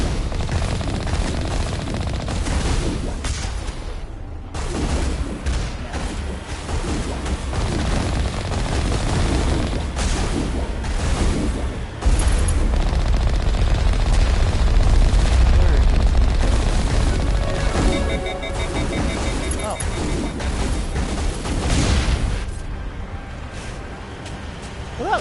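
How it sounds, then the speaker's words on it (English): Turret gunfire in Mass Effect in a snowy setting, with dense, rapid bursts of automatic fire and booming impacts running almost continuously, loud and close, alongside a speaking voice. "Turret."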